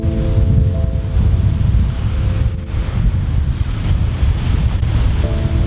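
Strong wind buffets the microphone while waves wash and slap at Paldiski harbour, a loud continuous roar with a faint low tonal hum fading in and out, no voices.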